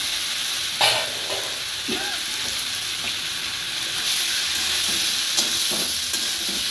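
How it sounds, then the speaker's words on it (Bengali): Cauliflower fries with spices in a pan. A steady close sizzle carries the whole time, broken by a few sharp scraping and clinking stirs. "মশলাগুলোর সাথে কপিটা আরেকটু ভেজে নিচ্ছি"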